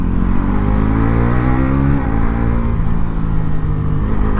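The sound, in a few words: Bajaj NS 400 Z motorcycle being ridden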